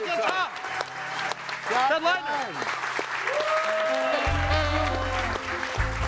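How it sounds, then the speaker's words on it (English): Live studio audience applauding on a TV broadcast set, a steady wash of clapping running under several voices talking and laughing near the mic, with a low hum entering late. "applause to you guys"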